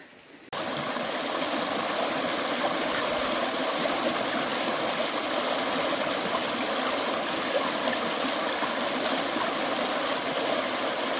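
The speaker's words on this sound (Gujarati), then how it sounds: "ધીમા ધીમા પાણી વહેતા હોય ને ખડખડતો હોય આવતો હોય ઝીણો ઝીણો ઝરણાનો સુંદરતા જ અલગ છે" A small forest stream in the Girnar hills flows and trickles over rocks, a steady, close, continuous rushing and gurgling that holds evenly throughout with no voices.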